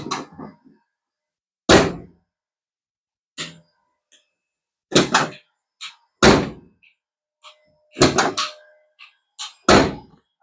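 A car's driver's door with freshly installed weather stripping is slammed shut repeatedly, about six loud, solid thunks spaced a second or two apart, with faint sounds of handling between them.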